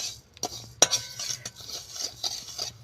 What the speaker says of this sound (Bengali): এবারে আমি নাড়তে থাকবো যতক্ষণ না চিনিটা গলে